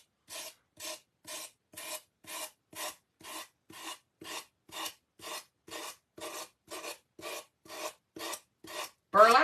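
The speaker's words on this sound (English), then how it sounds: "Burlap doesn't like to always sand off very nicely, but it does take off a good amount of it for me" Burlap edge on a decoupage piece being sanded off in about twenty even back-and-forth rasping strokes, close and steady, with a louder scrape at the very end.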